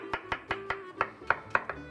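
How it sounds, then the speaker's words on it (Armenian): Carrots are chopped with a knife on a board for a chicken soup, about eight close, crisp, evenly spaced chops in quick succession, alone without talk. "գազարը նույնպես կտրատենք"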